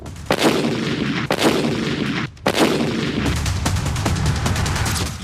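Robbers with a country pistol fire during a daytime gold shop robbery in Vijayapura: loud, sharp bangs spaced a second or so apart, then a rapid run of cracks, with no talking.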